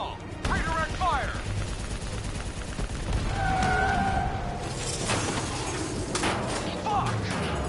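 Rapid gunfire bursts rattle against an inbound VTOL in Call of Duty Black Ops 3, loud and close, with shouted voices, mechanical clanks and whirring aircraft tones mixed through the firefight.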